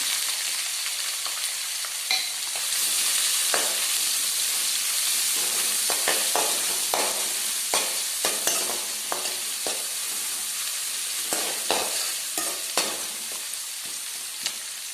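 Thinly sliced large onion sizzles steadily in hot oil for a Tamil-style cauliflower fry, with frequent scraping stirs of a spoon against the pan breaking through the continuous close frying hiss.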